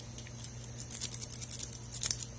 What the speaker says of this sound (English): This is a famous rakeable Brinks. Let's see if it will rake with this.